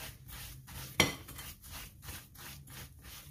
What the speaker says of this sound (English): And put that butter in and mix it up